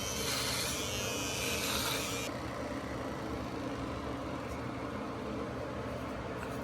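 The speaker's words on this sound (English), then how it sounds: "I'm actually going to buzz my head" An electric shaver buzzing while shaving a head, a steady close-up hum with rubbing texture that runs continuously and brighter for the first two seconds before settling into a duller drone.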